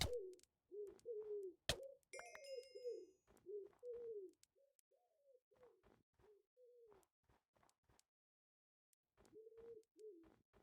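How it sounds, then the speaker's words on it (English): A pigeon in Minecraft coos repeatedly in soft, low, rolling phrases, heard clearly and alone with short pauses, interrupted by a few sharp clicks and a brief twinkling chime. "Pigeon."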